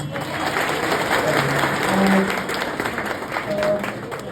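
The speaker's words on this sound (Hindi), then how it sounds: "जो लोग भी आए हैं उनके लिए तालियां होता है।" Students in a BPSC coaching class in Patna applauding those who came early, a steady moderate patter of clapping with brief voices and tones mixed in, fading slightly near the end.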